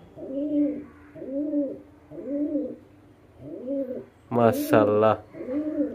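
A pigeon calls its mate with a run of soft, rounded coos repeated at a steady pace, close and clear, and someone speaks briefly partway through.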